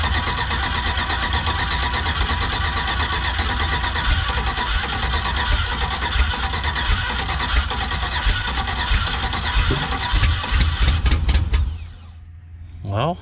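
A car engine that has sat unused and is flooded with raw fuel cranks steadily and loudly for about twelve seconds, nearly catching near the end before cutting off abruptly, with a short sputter after.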